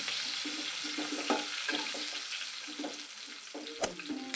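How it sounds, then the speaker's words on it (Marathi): Curry leaves dropped into hot tempering oil for crispy poha bhel sizzle with a steady, bright hiss, while a spoon taps and scrapes the pan in short, regular stirring strokes. "आता त्याच्यामध्ये आपण पाच सात कडीपत्त्याची पान टाकून घेऊ थोडंसं याला हलवून घेऊ"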